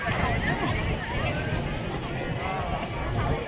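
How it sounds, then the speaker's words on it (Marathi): Sunday crowd at the Omkareshwar boating area, a dense, steady babble of many voices and footsteps close by, with people talking throughout. "खूप गर्दी आज रविवार आहे तर."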